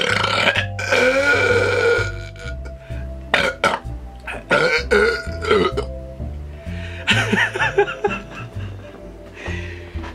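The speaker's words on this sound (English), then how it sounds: "Dude, that was like the nastiest burps ever." Loud, drawn-out burps erupt repeatedly during a two-litre Canada Dry soda no-burp challenge, coming in close uneven bursts with a few gasps and laughs between them.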